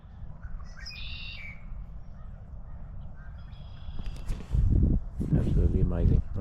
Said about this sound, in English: Absolutely full of birds in here.